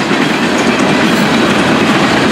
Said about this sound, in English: Hey, there's a tank train on this one,